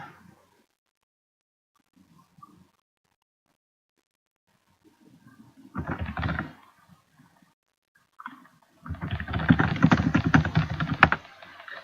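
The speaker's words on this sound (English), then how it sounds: "Now everybody gets to hear my rocket typing." Rapid computer keyboard typing in two quick bursts, the second longer and louder, close to the mic with near silence between.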